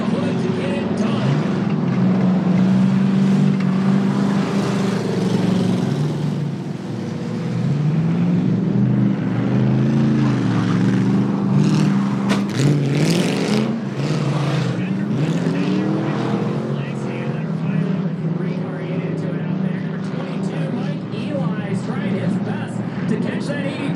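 Race cars roar around the track during the Evil Elf Enduro at Kalamazoo, engines droning and rising and falling continuously as cars pass, with an announcer talking over the racing.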